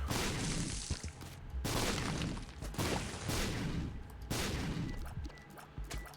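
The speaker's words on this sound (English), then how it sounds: "Gonna drop a bomb there." Bombs explode in The Binding of Isaac: Afterbirth as several loud game blasts, each a sharp boom with a noisy decaying tail. They come in an irregular series and are heard alone.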